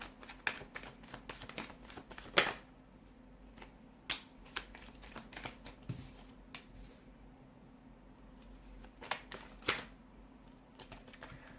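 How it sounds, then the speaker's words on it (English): Tarot cards being shuffled in quick riffling bursts, with soft slaps and flicks scattered over several seconds, close and fairly quiet with no talking. "give the cards a shuffle, and let's see what the cards are predicting"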